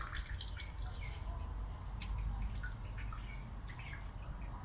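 Whey drips and trickles faintly from freshly made goat cheese, soft irregular drops with a quiet watery patter.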